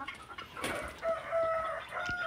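Farm chickens clucking and a rooster crowing among geese, turkeys and ducks in a rural yard, the crow drawn out over several seconds with scattered clucks around it, moderately distant and faint, with no talking.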